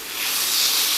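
Chicken breast laid into hot olive oil in a pan near smoking point gives a loud, steady broadband hiss that swells and holds for about a second, with no voices.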